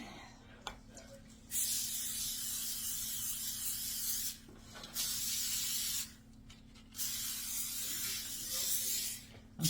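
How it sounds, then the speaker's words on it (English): Cooking spray hisses from an aerosol can onto the sides of a baking pan, four close, bright bursts of a second or two each separated by short pauses, over a faint steady background hum. "I'm spraying the sides of this pan"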